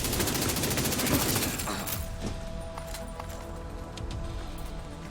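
Gunfire in The Division 2 video game: a dense, loud burst of rapid automatic shots for about two seconds, then scattered single reports and clatter over a quieter background.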